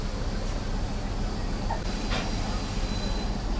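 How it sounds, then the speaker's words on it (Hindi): A Sri Lankan Railways locomotive rolls in for coupling, a steady loud rumble of rail noise with faint metallic squeals over continuous running sound. "यहाँ पर आ गया अपना लोकोमोटिव, यहाँ होगी कपलिंग"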